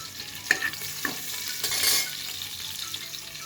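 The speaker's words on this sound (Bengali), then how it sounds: "তেজপাতা এলাচ দারুচিনি আমি তেল এবং ঘি দিয়ে দিয়েছি এটা ভেজে নেব" Bay leaf, cardamom and cinnamon fry in a mix of oil and ghee, a soft steady sizzle with a few sharp clinks and scrapes of stirring, quiet and close with no talk.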